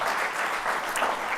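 Brief, full applause from a festival audience welcoming back a juggler and math teacher, an even wash of clapping at steady strength for just over a second.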